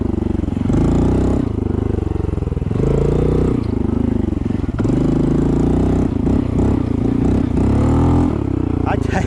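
A Honda CT125 motorcycle revs hard while churning through a mud bog, its loud engine surging and dropping in repeated bursts over the full stretch, with the rider's voice mixed in.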